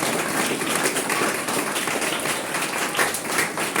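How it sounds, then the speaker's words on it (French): A church congregation claps together in a steady, dense wash of applause that fills the room at moderate volume without pause. "nous avons un applaudissement pour la présence de Dieu qui est dans le monde"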